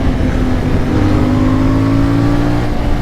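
A CF Moto 450 Ibex motorcycle engine pulls hard through the gears, a loud, steady roar whose pitch climbs smoothly as it revs, close by with no talk over it.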